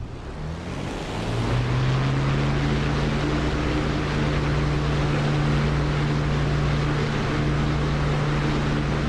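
An aircraft engine in the DCS flight simulator throttles up, building from a softer start into a loud, steady roaring drone with a sustained rising whine, no voices over it.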